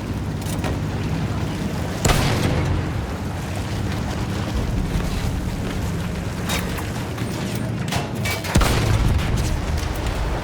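Heavy booms from artillery and field guns in the Battlefield 1 story mode play against a constant roar of wind and rumble. Sharp blasts come near 2 s and again around 6.5 and 8.5 s.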